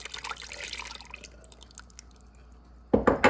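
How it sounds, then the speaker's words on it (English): Hot sugar brine poured from a pan over shredded coleslaw made in a Cuisinart food processor, a soft trickling, dripping stream of liquid that ends in a couple of louder splashy bursts, close by with no talk. "Now it's time to pour the brine on."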